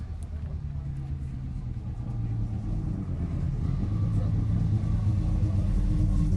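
Rally car sliding sideways on a forest stage toward the final corner at a rally sprint shootout, a steady low engine rumble that swells louder over the whole stretch, with no talk over it.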